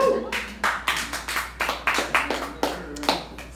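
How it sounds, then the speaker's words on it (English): Audience applause at a live comedy show, a crowd clapping steadily for several seconds with some whoops mixed in, moderately loud and close. "raise your hands or applaud, because I can't see you really"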